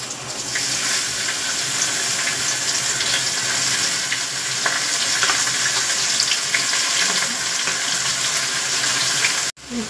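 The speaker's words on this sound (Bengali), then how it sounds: "এবার আমি দিয়ে দিচ্ছি সেদ্ধ করা মোচাটা।" Boiled banana flower dropped into a pan of sizzling cinnamon and cardamom, a loud steady frying hiss running almost unbroken with faint scraping, cutting off abruptly near the end.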